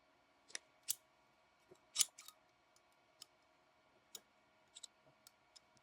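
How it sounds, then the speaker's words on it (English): Scissors that will not close are worked in short, sparse bursts, giving faint, separate metallic clicks and snips against a quiet background. "I can't close my scissors."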